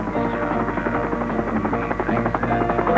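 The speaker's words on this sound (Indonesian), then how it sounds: "Beban paling berat yang dapat diangkut helikopter ialah 800 kg." A helicopter carrying cargo drones steadily and loudly at close range, with a continuous rotor and engine hum and no pauses.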